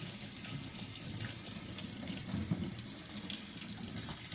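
Water from a kitchen sink faucet runs steadily as a robot vacuum's water tank is rinsed under it, a continuous close splashing stream with light knocks of plastic near the end.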